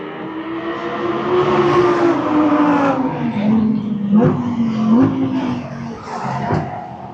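A Porsche GT3 RS at the Le Mans circuit runs with a close, loud engine note that rises and falls through several revs, its pitch shifting with each blip of the throttle.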